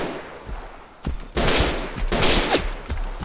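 Sniper gunfire in the video game DayZ, with two sharp, loud shots cracking out about a second apart, each followed by a rolling, noisy tail of echo.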